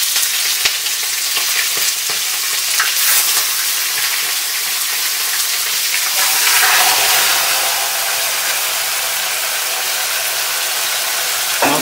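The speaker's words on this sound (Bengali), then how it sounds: "এবার আমি মাংসটা এই তেলের উপর ছেড়ে দেব" Chicken pieces fry in hot oil with bay leaf and cumin, giving a loud, dense, continuous hiss and crackle that fills the whole stretch close up, swelling slightly midway as more meat goes in; no one speaks.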